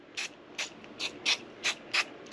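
WD-40 spray can giving a seized trolley part a series of seven short, evenly spaced spray bursts, each a quick close hiss with brief quiet gaps between.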